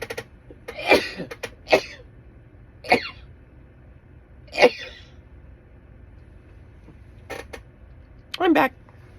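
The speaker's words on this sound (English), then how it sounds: "oh, I gotta sneeze." A series of short, sharp bursts from one person, like a sneeze and stifled coughs, spaced a second or two apart in a quiet room.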